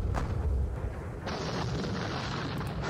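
Artillery guns fire in a Napoleonic battle game: a deep, rumbling boom opens, followed by a sharper burst and a sustained noisy crackle that fills the rest, loud and continuous.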